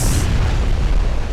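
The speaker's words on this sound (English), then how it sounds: "there is just an unending stream of secondary fire that whittles them down" Naval secondary gunfire and shell explosions from the warship game Ultimate Admiral Dreadnoughts form a dense, continuous rumbling barrage of deep booms. The sound is loud and unbroken, with no speech over it.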